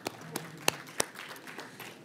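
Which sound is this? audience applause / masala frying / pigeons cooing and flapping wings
audience applause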